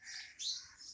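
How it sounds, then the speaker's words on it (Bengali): Birds in a neem tree at dawn give faint, high chirps and squawks, a few short calls overlapping at a distance in a quiet, empty street. "শুধু শব্দগুলো শোনো পাখির।"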